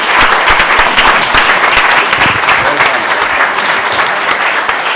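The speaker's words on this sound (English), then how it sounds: "I think you deserve applause for it." An audience breaks into sustained applause, dense and steady clapping from a crowd that carries on at an even level from start to finish, with no voices standing out above it.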